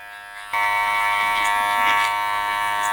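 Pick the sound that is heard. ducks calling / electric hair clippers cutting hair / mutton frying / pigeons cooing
electric hair clippers cutting hair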